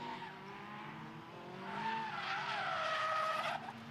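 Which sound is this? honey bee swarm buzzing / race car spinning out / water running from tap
race car spinning out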